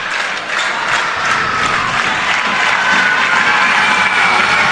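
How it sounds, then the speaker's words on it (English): Basketball crowd at a high school girls' game roars and cheers during starting lineups with the lights down, sustained loud applause and shouting from a packed gym. "As crowd gets to a fever pitch"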